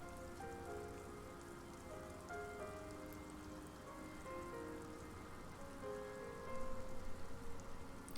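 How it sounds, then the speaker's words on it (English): Steady rain ambience in the video game Disco Elysium, a dense even patter that swells slightly toward the end, layered with soft tonal background music. "I'm starting to hear, I think, rain?"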